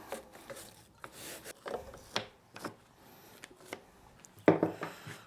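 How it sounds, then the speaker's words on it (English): A brush scrubbing rough gunk out of a Hypro 9910-D30/AR30 pump housing, irregular close bristly strokes and rubs with brief pauses and a louder scrape near the end. "So get the brush, just kind of get all the rough gunk and stuff out of here"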